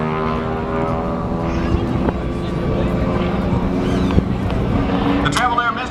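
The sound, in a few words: Travel Air Mystery Ship aircraft at an air show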